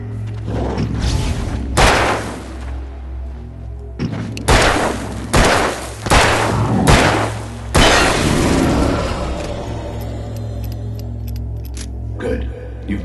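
Gunshots ring out in the video game Alan Wake, a handful of loud, sharp blasts spaced irregularly over a low ambient drone, followed by quieter metallic clicks and rattles near the end.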